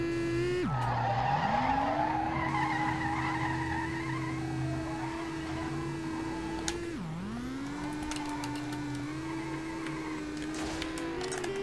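A car in the racing game SLRR is slammed into a wall, its engine holding a steady whine with tire skidding, and sharp dips in pitch mark the hits near the start and midway.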